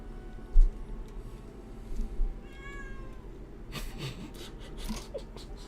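Pet cat Mittens meows several times, fairly close and clear, with soft breathing, rustling, and a few bumps around her; no one speaks.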